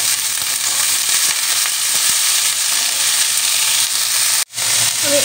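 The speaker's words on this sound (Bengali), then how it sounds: "কড়াইয়ের তেলটা খুব ভালো মতন গরম হয়ে গিয়েছে, দিয়ে দিলাম আমি ডিম।" Egg hits hot oil in a wok and fries with a loud, dense, continuous sizzle and crackle, close up, briefly cut off near the end before resuming.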